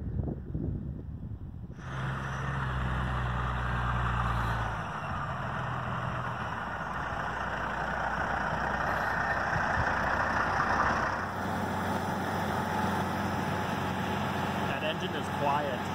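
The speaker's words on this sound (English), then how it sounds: "That engine is quiet. Unbelievable." A New Holland T9.390 tractor engine idles close by as a low, steady rumble that holds for most of the stretch. People talk over it at times.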